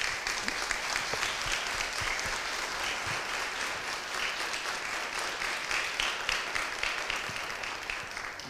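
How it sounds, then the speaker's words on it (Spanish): Steady applause from an audience at a library-system presentation, dense continuous clapping throughout with no pauses, moderately distant and even in loudness. "el aplauso de todos nosotros"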